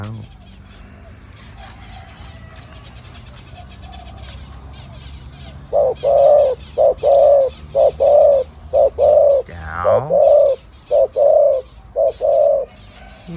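A spotted dove kept as a decoy bird coos loudly and close by in Nakhon Nayok. After a quiet start, it gives a rhythmic series of repeated hollow coos against faint background noise.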